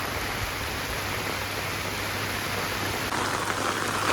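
Heavy rain pouring steadily as a dense, continuous hiss, loud and unbroken throughout.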